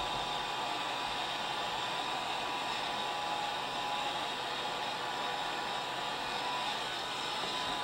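A hair dryer or heat gun blowing hot air onto encaustic wax on a picture, a continuous steady whooshing hum at constant loudness throughout, with no speech.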